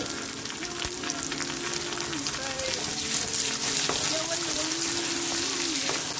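Onions sizzling and frying steadily in a hot pan, a continuous close crackle with occasional stirring and faint talk in the background.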